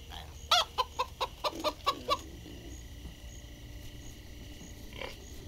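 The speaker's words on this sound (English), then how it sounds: "It's a chicken." A chicken in Minecraft: Story Mode clucks in a quick run of about eight short clucks, then goes quiet against a low background hum.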